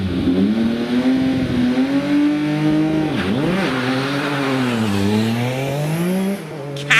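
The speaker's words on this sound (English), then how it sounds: "Let's listen to this car as it gets off the line." A Metro race car launches hard off a drag strip start line, its engine loud and close, climbing through revs in a rising howl with gear changes and a dip mid-run, alone without voices.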